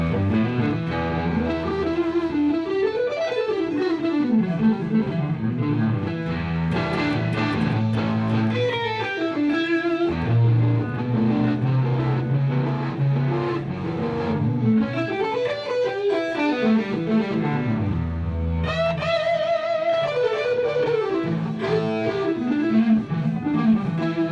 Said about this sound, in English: Yeah, that right there is the amp distortion.